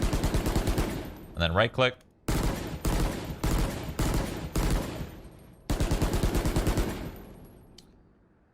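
A budget rifle in Valorant fires in short bursts of rapid, sharp shots that come close and loud, with gaps between bursts. A brief spoken phrase comes early.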